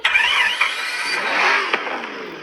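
A car engine cranks and catches near the listener, then settles into a steady mid-pitched idle with a slight rise, alone without voices, on a drive toward railway station and port cranks in the Chernobyl zone.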